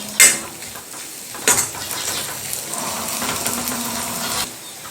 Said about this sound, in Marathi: या कांद्याबरोबर आपण एक दोन मिनटे ही सुद्धा परतून घेऊया